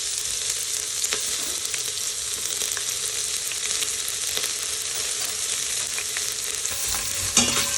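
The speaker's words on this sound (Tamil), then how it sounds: "கொஞ்சம் பொன்னிறமாக வரது வரை நல்லா வதக்கிக்கணும்" Sliced onion sautéing in a pan with garam masala for mutton pulao, a steady close broadband sizzle with scattered scraping stirs and a louder clatter near the end, with no voices.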